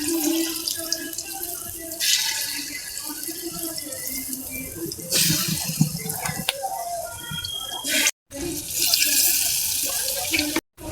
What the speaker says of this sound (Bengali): লড়াটা গরম করতে দিছি, তেল ছেড়ে দিলাম, এটা গরম হয়ে গেছে, ছেড়ে দিলাম একটা একটা করে